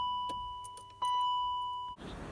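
A steady warning chime sounds inside a BMW E53 X5 3.0, then keys jangle before the engine cranks and catches near the end with a short low rumble.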